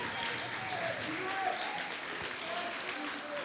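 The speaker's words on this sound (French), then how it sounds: "Je pense qu'on peut applaudir très fort les 9 participants de ce matin." Soft, distant applause from an audience at the final of a middle-school pleading contest, a faint steady patter of clapping with murmuring voices.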